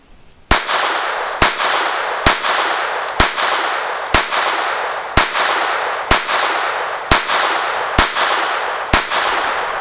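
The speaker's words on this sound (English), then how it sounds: "we're going to take another 10 shots to Mr. Green's head with this 22" A Ruger SR22 .22 pistol fires ten sharp, evenly spaced shots at a range, each crack loud and close with a short decay before the next.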